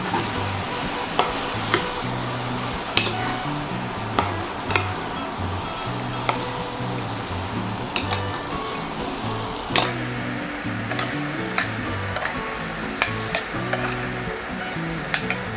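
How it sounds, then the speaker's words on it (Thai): Food stir-fried in a pan after a seasoning sauce is added, a continuous sizzle punctuated by sharp metal spatula clanks and scrapes at an irregular pace, near and with no talking. "แล้วก็ผัด"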